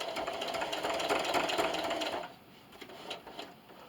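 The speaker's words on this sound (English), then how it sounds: "So now I'm going to travel stitch on the thread." A sewing machine travel-stitches along thread while making a plastic bag dispenser, a steady close whir running for about two seconds before it stops, leaving faint rustling.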